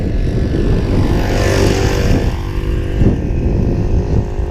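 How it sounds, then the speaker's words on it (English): A motorbike rides along a dirt trail in a desert wash, its loud continuous engine drone holding steady and close throughout with broad rumbling noise and no speech. "Dude on a motorbike."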